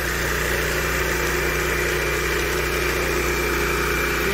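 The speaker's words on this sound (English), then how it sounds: "You guys like this power trowel or not? 36 inch, it's got the big motor on it," A 36-inch MBW high-torque power trowel with a big high-RPM motor runs steadily at close range, giving a continuous droning engine hum with a strong low rumble and no pauses.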